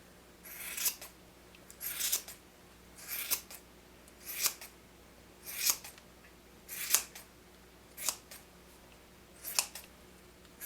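Scissors snip at a handmade holiday gnome, about ten crisp, close cuts at a steady, unhurried rhythm against a quiet background.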